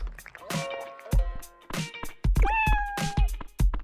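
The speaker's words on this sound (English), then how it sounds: "That's a good cat." A cat in the Dave the Diver video game meows several times at close range, one drawn-out meow standing out among short chirps, with soft clicks and wet eating noises between them.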